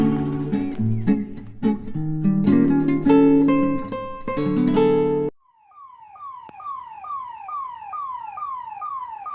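Music plays at first, then an ambulance siren wails in stuck traffic on a highway, heard from a scooter; its rapid, repeating tones rise and fall steadily and stay fairly loud.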